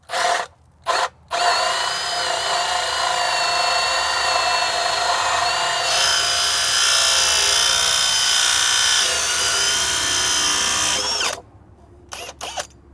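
A power drill turns a 3-inch Forstner bit through wood outdoors, a steady loud whine with a rising pitch midway that runs for about ten seconds before stopping, preceded by brief trigger bursts and followed by faint handling noise.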